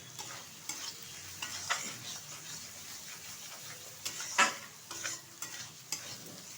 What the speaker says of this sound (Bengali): ভালোভাবে কিন্তু কষিয়ে নেওয়া হয়ে গেছে।